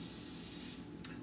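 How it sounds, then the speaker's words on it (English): Cooking oil is sprayed from a can onto a pancake in a Hamilton Beach sandwich griller. It makes one steady, close hiss that lasts about a second and then stops, with no talking. "I'm just going to spray the pancake with oil"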